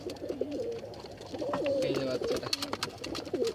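Repeated soft pigeon coos from a black-tailed female pigeon kept at home, a steady series of low, rounded calls close by with faint background noise.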